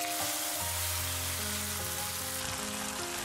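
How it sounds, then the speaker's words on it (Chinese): Spices and doubanjiang bean paste, two spoonfuls, stir-fried in hot oil with onion, scallion and coriander root, sizzling steadily and loudly with a bright crackle throughout, no voices. "加入两勺豆瓣酱翻炒"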